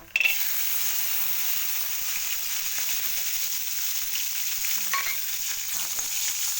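Mustard seeds, cumin and chana and urad dal roast in a pan with a steady close sizzle and faint crackles, with occasional stirring scrapes.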